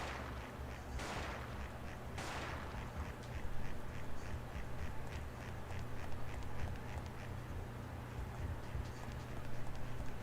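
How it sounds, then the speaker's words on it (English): Duck-like quacking from the video game Parasite Eve 2, a repeated nasal call set within dense, noisy game sound and a rhythmic thudding background. "You sound like a duck."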